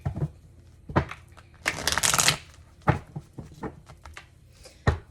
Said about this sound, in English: Let me get a quick little shuffle in.